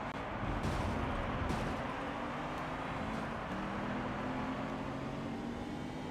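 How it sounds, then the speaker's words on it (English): A supercharged road car in the racing game Gran Turismo 3: A-Spec, a dense, steady engine roar with a thin rising whine running through it, continuous and with no talk. "You can hear the wail of the supercharger now that the music isn't turned off"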